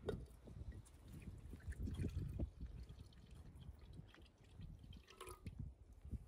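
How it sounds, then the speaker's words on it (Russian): Cream pours steadily into a pot with soft dripping and gurgling, close and quiet, continuing for several seconds. "Мы наливаем сливки."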